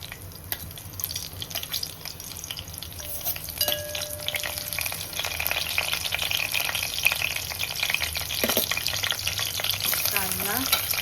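Bay leaf pieces and green chilli frying in oil for egg curry, a sizzle that swells louder partway through, with scattered clinks and scrapes of stirring and a few brief tonal sounds near the end; no talking.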